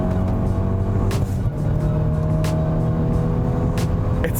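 Ford Focus ST engine under full throttle in hot weather during a passing manoeuvre, heard from inside as a loud, steady droning hum with faint road and wind noise.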